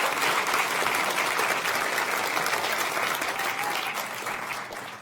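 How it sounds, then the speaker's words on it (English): Dense audience applause at an international science-communication competition final, steady and sustained, fading slightly at the very end. "Another torrent of pure, refreshing applause for our South Africa champion, Nozipho Gumbi."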